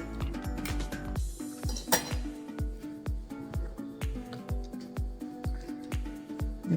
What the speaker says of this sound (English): The blades are very sharp, so I'm just gonna scrape all the split peas off and put it in this plate